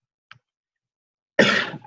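After a tiny click and a long silence, a person gives one short, rough burst of coughing and throat clearing, close and clear.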